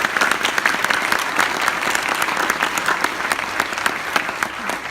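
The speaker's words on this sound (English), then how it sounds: "Please give them applause as they are also everyday heroes." Loud, dense applause from a gala audience honoring everyday heroes at a Desert AIDS Project event in the Coachella Valley, continuous clapping with no break or speech.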